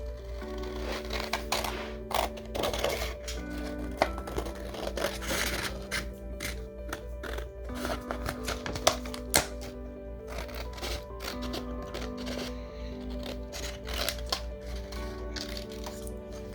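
Scissors cut through paper for wall decor in quick, crisp snips and rustles, continuous and close, over a faint steady background hum.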